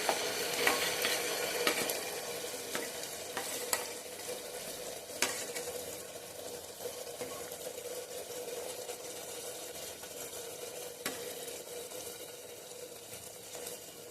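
A paste of onion, capsicum, garlic, ginger and green chilies stir-frying on high heat for pav bhaji, a quiet continuous sizzle broken by repeated sharp ladle taps and scrapes against the pan.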